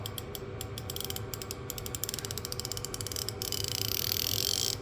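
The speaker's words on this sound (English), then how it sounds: "These are just literally stubbier ratchets" Stubby ratchets with fine 100-tooth mechanisms clicking close up, with rapid runs of sharp, even ticks in rhythmic bursts that speed into a denser buzz of clicks toward the end, no speech.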